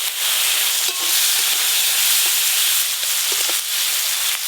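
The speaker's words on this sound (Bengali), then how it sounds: "এবার আমি চিংড়ি মাছগুলো ভাজবো," Prawns coated in salt and turmeric fry in hot oil, a loud, continuous hissing sizzle that stays close and steady, with a few faint clinks from the pan and no voices.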